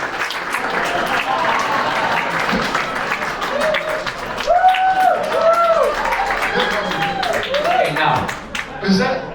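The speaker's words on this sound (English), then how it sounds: "Let them applaud." Steady applause from a crowd with talking and curved tonal sounds over it, continuous and fairly loud throughout.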